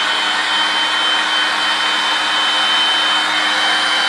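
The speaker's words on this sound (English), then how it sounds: "Homemade blow dryer, y'all." An air pump serves as a hair dryer, blowing a loud, constant whooshing roar up close with a faint motor hum, steady and unchanging throughout with no talk.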